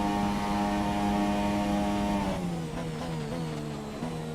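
Renault Formula 1 car engine in F1 2017, racing at Belgium: a loud, steady high-pitched engine whine held close, dropping in pitch partway through as the driver lifts and shifts, then climbing again.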